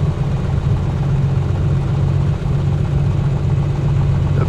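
A simulated Piper Comanche 250 engine in Microsoft Flight Simulator runs loud and steady at low idle with a deep continuous drone and a weak cylinder, alone without voices.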